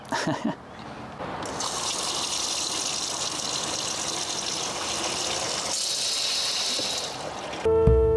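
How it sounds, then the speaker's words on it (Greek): Water gushes from a repaired outdoor faucet at a camp in Patagonia, a steady rushing flow that swells partway through and stops near the end before a brief musical sound. "Η βρύση μας δουλεύει και πάλι."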